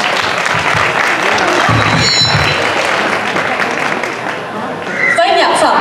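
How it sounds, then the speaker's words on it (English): Applause from an audience at a Lunar New Year celebration in a shopping mall, a sustained burst of clapping that swells and continues, with a voice speaking over it near the end. "Please give me a big round of applause for Miss Thuy Tien."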